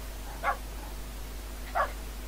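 Dogs from a Minecraft dog mod bark twice, two short faint yips about a second apart over a quiet steady background hum.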